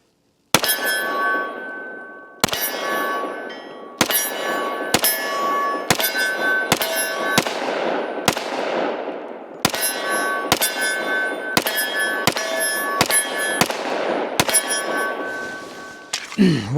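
A 10mm S&W M&P Carry Comp pistol fires at a steel target about 20 yards away: around fifteen separate shots, each followed by a bright ringing clang that trails off, spaced at irregular intervals.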